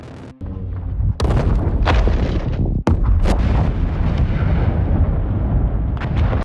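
A massive explosion erupts with a sharp blast, followed by a long, loud rumbling roar and further booming bursts that continue throughout.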